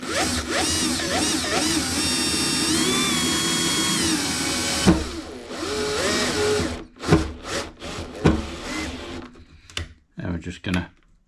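A T-nut is pulled into a wooden DIY 18-inch band-pass subwoofer box with a bolt, first with a sustained, whining power-driver run, then short bursts of tightening and knocks on wood while someone talks.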